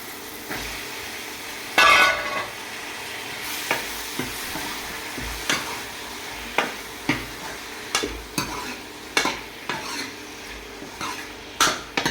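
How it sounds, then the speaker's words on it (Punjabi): Cut potatoes and carrots hitting a hot spiced tempering in a pan, a burst of sizzling followed by a steady hiss with repeated sharp clinks and scrapes of a utensil stirring. "ਹੁਣ ਆਪਾਂ ਇਹਦੇ ਵਿੱਚ ਜਿਹੜੀ ਆਲੂ ਗਾਜਰਾਂ ਕੱਟੇ ਹੋਏ ਉਹ ਪਾ ਦਾਂਗੇ"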